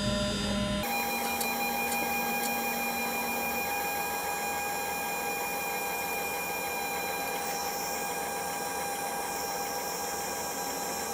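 A steady mechanical whir with stepper-motor tones hums on, close and continuous, as a Printrbot Play 3D printer's print head moves without pause.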